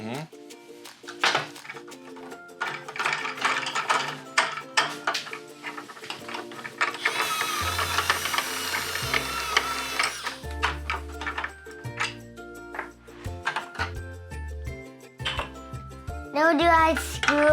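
Plastic ratcheting clicks and rattles as a wheel is unscrewed from a Battat Take Apart 4x4 toy truck, close and irregular, mixed with a child's and an adult's voices talking throughout.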